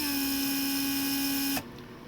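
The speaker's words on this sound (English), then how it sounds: "That was antennas retracted down." Power antennas on a Mercedes 300SD retracting into the fenders: a steady mechanical whine with a strong tonal hum runs for about one and a half seconds, then cuts off abruptly, leaving a quieter background.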